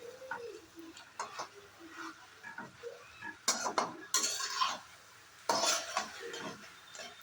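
A spoon scrapes and clatters against a pan while pumpkin greens and potato curry with tomato are stirred, in uneven bursts of metallic knocks and scraping with faint sizzling between.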